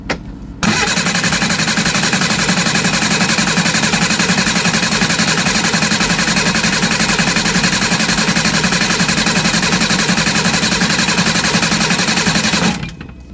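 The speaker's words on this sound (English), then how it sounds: "I'm going to crank it again and see if anything comes out." The engine of a Reliant Supervan 3 cranks on the starter in one long, loud, close run, a steady rhythmic churning whirr that goes on for about twelve seconds without catching and then stops abruptly.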